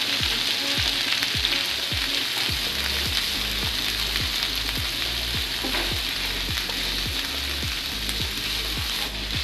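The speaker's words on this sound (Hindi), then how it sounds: "अब मैं इसमें डालूंगी प्याज, और प्याज डाल के 2 मिनट तक मैं इसको फ्राई करूंगी।" Onions fry in hot oil for an omelette, a dense, even sizzle close up with a regular series of stirring taps and scrapes through the pan.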